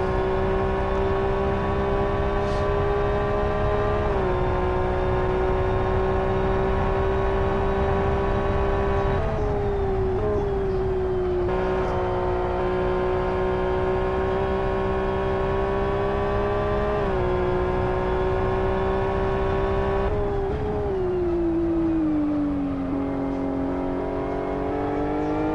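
A touring race car engine in a sim racing esports game drones loud and continuous, its pitch holding steady then dipping and rising through gear changes and corners, with no talk over it.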